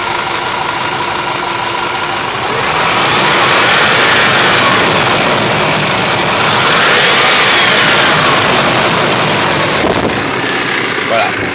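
A Range Rover P38 V8 engine runs under the bonnet during a coolant-system check, rising from idle into two sustained revs and settling back, loud and close, with a voice speaking over it.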